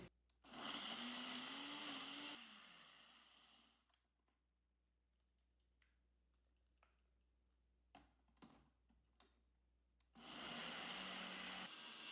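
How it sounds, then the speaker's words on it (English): A kitchen blender runs loudly while blending a fudgy freezer pop mix, then stops, leaving a long quiet gap with a few clicks and knocks before the motor roars back up near the end. "you can see I stopped the blender a couple of times"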